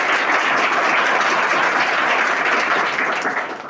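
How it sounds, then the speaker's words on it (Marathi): A crowd of children at a Diwali celebration for orphans claps hard and fast on cue, producing a dense, loud, sustained burst of applause that fades slightly at the close. "मी जर वर करणार तसं तुमच्या टाळ्या जोर जोरात वाजला"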